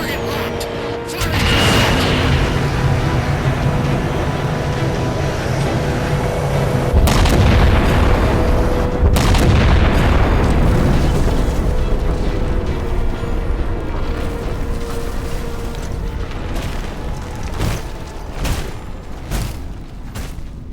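Halo 4 scene where a weapon fires on a locked target, with deep booming blasts and rumbling explosions swelling over a heavy roar, followed by scattered sharp impacts, loud and close.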